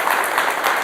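A studio audience at a televised debate show claps in a short, steady burst of loud applause with no voices over it.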